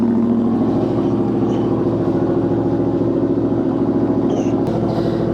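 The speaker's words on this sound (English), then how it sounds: "I'm going to get on the bike and give you a sound test." Warmed-up motorcycle engine running at a steady low, throbbing idle, heard close from the rider's seat with no talk.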